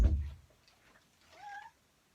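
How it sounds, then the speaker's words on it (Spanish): A pet female cat meows once, a short rising call at close range, following a louder thump or bump at the start, then silence. "mi gatita está dando lata."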